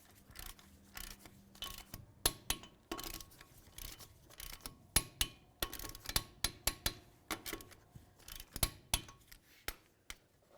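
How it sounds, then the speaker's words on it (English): Torque wrench clicking repeatedly as lug nuts on a 2007-2012 Nissan Sentra wheel are tightened to 80 foot-pounds, a close series of sharp irregular clicks and ratchet ticks with short gaps between them. "let's go ahead and torque all of our lug nuts to 80 foot-pounds"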